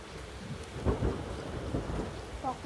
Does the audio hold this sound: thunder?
yes